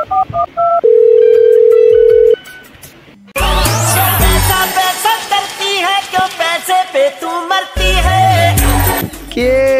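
A telephone is being dialed: a short run of dial tones gives way to a long steady tone, then a gap, then a quick series of loud keypad beeps and tones.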